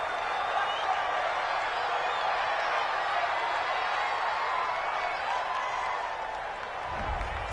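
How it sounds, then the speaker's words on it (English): Home crowd in a football video game gives a steady wash of cheering and applause, loud and sustained throughout, with a slight dip near the end. "This home crowd, they're happy with that call."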